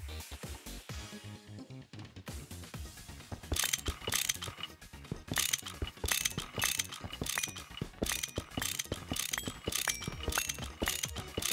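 A wrench ratchets repeatedly in the Minecraft modpack GT New Horizons, a fast run of clicking mechanical ticks that starts sparse and then turns into dense, loud rhythmic clatter, with no speech.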